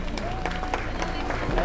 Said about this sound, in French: on peut les applaudir, les encourager,